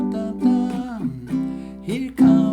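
A baritone guitar picks out a verse riff, several clear plucked notes and short melodic phrases ringing one after another at a moderate, close, solo level.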